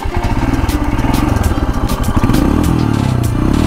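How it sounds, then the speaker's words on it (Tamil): A Royal Enfield Himalayan Scram 411 motorcycle runs with a loud, close, steady thumping exhaust beat, and the pulses rise and blur together as the engine revs up partway through. "ராம் ஃபோரில் அவனோட எக்ஸாஸ்ட் சவுண்டு காமிக்கிறேன்."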